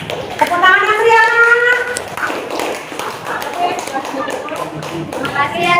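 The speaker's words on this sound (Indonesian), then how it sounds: "Tepuk tangan yang meriah." A classroom claps for a presenting student group. The claps come as scattered taps under loud voices, with children and adults talking over them throughout.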